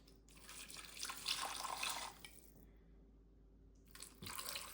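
Chicken broth pours from a glass into a turkey baking pan in a close, soft liquid splash that runs for a couple of seconds, pauses, then briefly resumes, with no voices.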